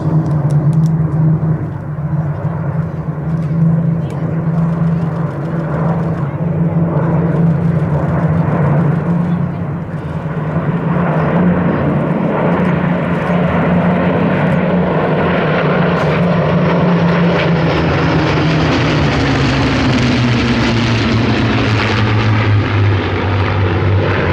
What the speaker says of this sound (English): In from the right-hand side, a beautiful 9 ship of Spitfires.